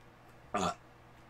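A single short, throaty burp stands out once against a quiet, faintly humming room.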